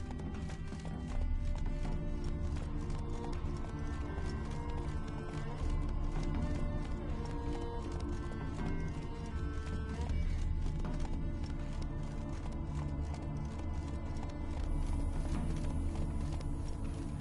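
Horse named Roach galloping in a video game, rapid rhythmic hoofbeats running steadily at a fast pace, with game music playing along.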